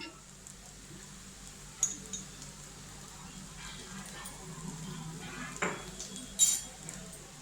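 Boiled Maggi noodles are mixed with ketchup, a spoon scraping and clinking against a pan or bowl in scattered soft strokes, with a few sharper clinks, under quiet background hiss.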